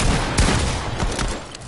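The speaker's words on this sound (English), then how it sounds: "I pulled the trigger." Gunshots from a Fortnite match, a dense burst of game gunfire with a few sharp cracks over a constant noisy background.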